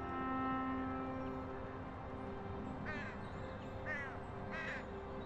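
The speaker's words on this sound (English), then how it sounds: "Is that a crow? Or a magpie?" Crow cawing in the video game Elroy and the Aliens: three faint, distant caws in the latter half over a low steady hum, with no speech.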